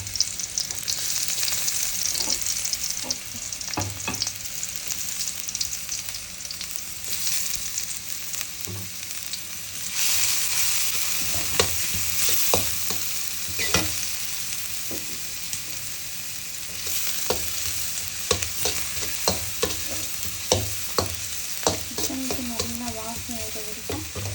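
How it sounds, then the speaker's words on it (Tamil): Onion and garlic fry in hot oil for fried rice, a steady loud sizzle running throughout with repeated stirring scrapes and clicks of a utensil against the pan, no talking. "வெங்காயம் மொதல் போட்டுருவேன் வெங்காயமும் நான் பூண்டும் போடணும்"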